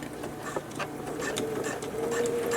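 Sewing machine stitching back and forth across polypropylene webbing on a small fabric bag, a fast close mechanical patter with a faint rising whine, alone and fairly loud.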